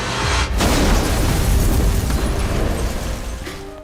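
A truck explodes in front of a police station in a zombie film, a loud roaring blast that sustains a thick rumbling burn for several seconds before trailing off.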